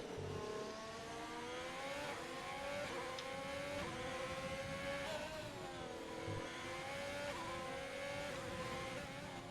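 Race car engine in a racing video game at Abu Dhabi, revving hard with repeated aggressive downshifts, pitch dropping and rising in steps, loud and continuous with no voices.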